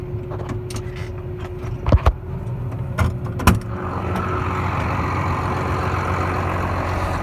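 A Case 340 tractor engine runs in a muddy cornfield, with several sharp clunks and door or cab handling noises early on, then a steady, close diesel rumble that swells and holds.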